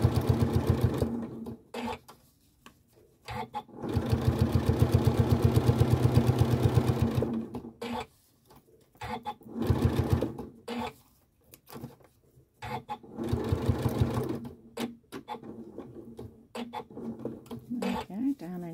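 A Janome sewing machine running a tiny straight stitch through fabric with green thread, whirring in rapid mechanical bursts of several seconds that stop and restart, with someone talking in the pauses and over the stitching.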